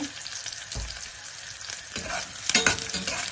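Onions and green chilies sauté in a pan for a dry fish curry with mango, giving a soft, continuous sizzle with occasional stirring scrapes and a brief louder burst of frying near the end.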